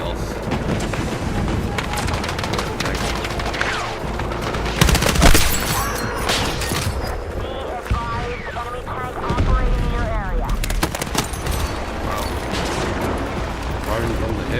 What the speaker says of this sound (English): Firing from the hip.